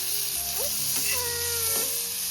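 Chopped tomatoes sauté in a pan over a wood-fired stove, giving a steady close sizzle with faint squeaky tonal chirps drifting over it.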